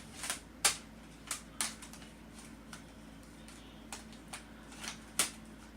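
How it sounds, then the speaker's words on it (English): Cards are shuffled in a quiet room, a series of short, crisp riffling bursts spaced irregularly, fairly faint with little else around them. "Alright, let's shuffle these up a little bit."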